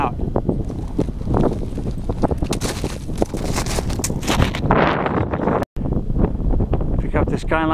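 Steady wind buffets the microphone on a snowy mountain summit in winter, a continuous rushing roar with gusty surges throughout, heard close and loud with a brief cutout near the end.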